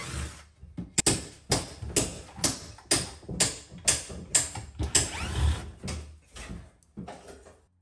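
Screws holding a kitchen counter are backed out with a ratcheting tool, giving a close, loud series of about a dozen rhythmic mechanical clicks and grinding turns, each about half a second apart, with no talking.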